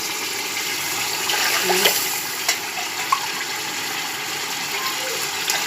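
Water pours in a steady, loud gush into rice for a vegetable pulao, a continuous rushing splash with a few small clinks from the pot.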